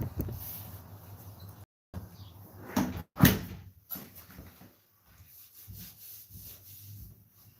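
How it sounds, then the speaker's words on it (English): A wooden interior door next to newly fitted casing and baseboard is pushed shut, with soft rubbing and brushing followed by a sharper knock as it closes, quiet and nearby. "We'll close the door."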